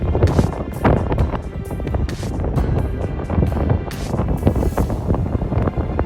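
Strong coastal wind in St. John's, Newfoundland, buffets the microphone in continuous heavy gusts, a roaring rumble that never lets up.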